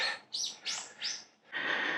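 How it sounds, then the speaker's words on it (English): Many birds chirp and call in bursts along a road in Japan during a cycling ride, several loud tweeting phrases overlapping with short gaps between them, no voices. "Here are a lot of birds, I think, making a lot of noise."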